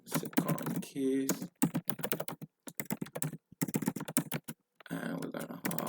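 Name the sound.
typing on a computer keyboard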